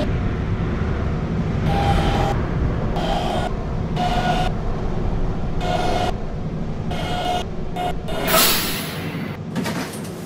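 R152 subway train running on the Kennedy Lines in the Roblox game PTA Classic, a steady rumbling roll with a repeating high electronic tone pulsing on and off, plus a brief hiss of brakes or doors near the end.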